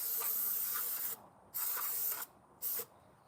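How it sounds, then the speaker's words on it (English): Brake cleaner is sprayed onto the rear brakes of a BMW Z3 in three hissing bursts, the first long and the last short, close by with quiet gaps between. "we'll hit it with some brake clean"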